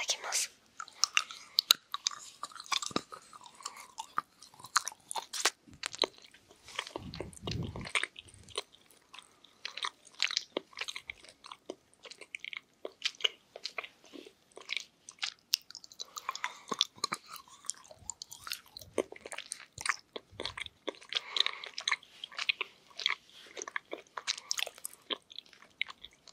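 Assorted chocolates bitten and chewed close to the microphone, soft crunches and wet chewing smacks coming in quick irregular bursts, quiet and intimate with occasional faint whispering.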